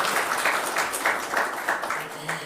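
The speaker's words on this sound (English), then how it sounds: "Can we please have a huge round of applause for that?" Applause at a grain ethanol association's first annual technical summit marking its anniversary: a short spell of clapping from a conference audience, swelling in uneven bursts under a low hum of the hall.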